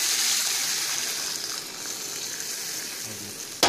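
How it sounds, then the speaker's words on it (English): Chicken broth added to a hot pan of Mexican rice produces a loud sizzling hiss that gradually softens, ending with a short clatter, heard close up. "And then I add in the chicken broth."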